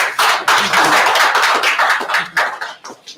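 An audience at an official welcome event for a boxing champion gives journalists a loud round of applause, close and uneven claps swelling and dipping before tapering off.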